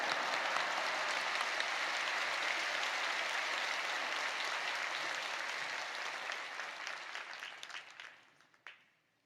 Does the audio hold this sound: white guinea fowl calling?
no